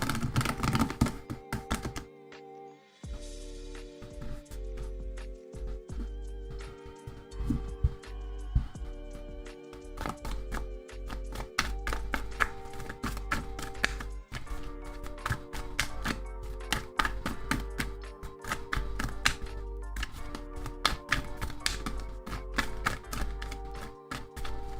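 A deck of tarot cards is shuffled by hand in a steady run of crisp riffling taps and flicks, close up and continuous, with irregular soft thumps as the cards are squared.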